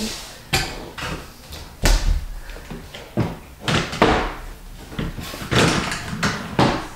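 Drawers of a DIY nursery dresser are rolled in on small wheels and pushed shut, giving a series of close, loud thuds and bumps spread over several seconds with brief rolling scrapes between them.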